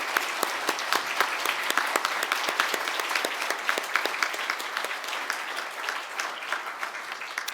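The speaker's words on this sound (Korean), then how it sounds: "크게 하나님께 영광의 박수를 돌리겠습니다." A church congregation at a Christmas thanksgiving service claps steadily, with many crisp individual hand claps forming an even, moderately loud round of applause.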